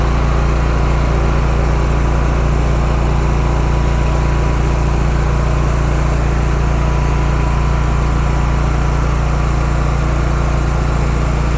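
A petrol 3500 PSI, 15 litre-per-minute pressure cleaner runs with a large 30-inch surface cleaner attached, a loud, constant engine drone and pump roar that stays unchanged throughout.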